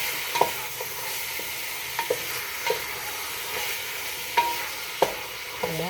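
Meat stirred in a hot pan for Ilokano papaitan: a spoon scrapes and knocks against the pan at irregular intervals over a soft, continuous sizzle, close and moderately loud with no talking.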